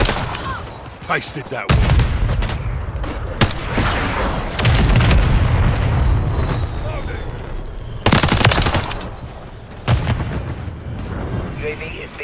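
Heavy gunfire and grenade blasts in Call of Duty Modern Warfare 3 multiplayer: dense automatic fire and booming explosions with sharp bursts near 2, 8 and 10 seconds, loud and continuous, with brief radio-style voices over the battle.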